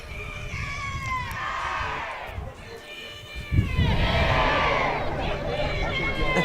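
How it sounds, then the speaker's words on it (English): A crowd at a 2A Round 2 high school football playoff game between the FCHS Mules and the Pana Panthers cheers loudly and steadily, with shrill yells and a surge of roaring partway through. "Getting the crowd riled up here today."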